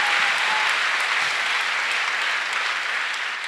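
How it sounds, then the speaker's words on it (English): A church congregation claps their hands together at a sermon, steady dense applause filling the room at close range throughout, with no talking over it. "Clap your hand for him."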